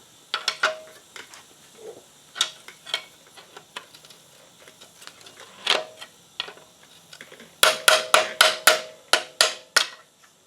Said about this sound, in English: I'm going to try to reach a pry bar in here and pry that bolt out like that.